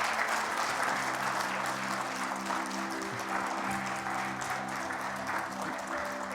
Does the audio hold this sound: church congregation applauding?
yes